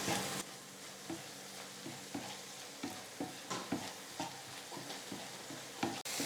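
Coriander paste and tomatoes sauté in a pan with a steady, dense sizzle, broken by regular scraping stirs of a spatula; no voices.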